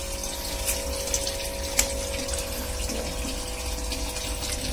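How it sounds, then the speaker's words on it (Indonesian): Water drains from a lobster fry pond with a steady, continuous rushing flow and a faint pump-like hum. Moderate level throughout, with no talk. "Di sini saya sedikit mengurangi air."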